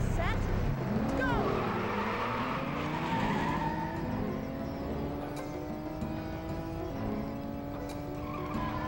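Nintendo 64 Cruis'n World racing game audio: roaring car engines with rising and falling pitch and repeated tire skids and squeals, continuous and loud, with voices talking over it.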